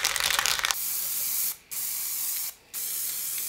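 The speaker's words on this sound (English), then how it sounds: "and this is concrete spray paint." Concrete-texture spray paint hisses from an aerosol can in three sustained bursts separated by brief pauses, close and fairly loud, after a short rustling opening.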